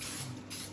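A short hissing burst of cooking spray greases a hot waffle iron, sounding close and soft.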